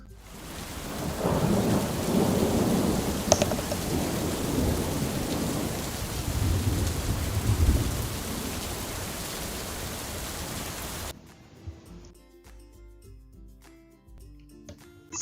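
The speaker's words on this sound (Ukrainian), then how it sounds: "дощик." Steady rain pours down with low rumbles of thunder for about eleven seconds, then gives way to quiet chiming music.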